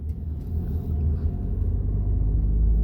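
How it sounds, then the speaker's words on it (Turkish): Steady low rumble of cars and motorbikes in busy city street traffic near a town square and market, a continuous close engine drone that swells slightly toward the end, with no voices. "Çok araba, motor."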